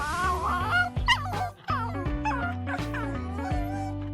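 A small dog whimpers and yips in high, wavering cries that rise and fall almost continuously, with a brief dip in the middle, over a steady low tonal backdrop.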